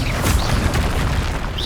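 A Confringo blasting spell explodes in the Hogwarts Legacy video game, a dense, booming low blast that rumbles steadily through the whole moment with little change in loudness.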